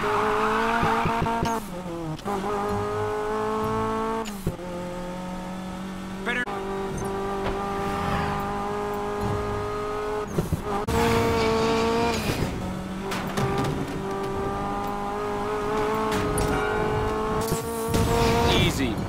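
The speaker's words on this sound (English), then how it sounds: "Better hurry, engines are revving." Race car engines rev hard in the Need for Speed Payback video game, loud harmonic whines rising and falling with tire squeal and skids, under steady talk throughout.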